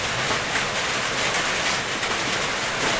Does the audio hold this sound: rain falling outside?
yes